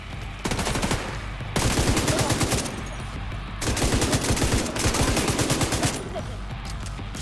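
Sustained rapid bursts of light machine gun fire in The Division 2, loud and close, with rhythmic staccato shots running in long strings separated by brief pauses, and other gunfire layered in.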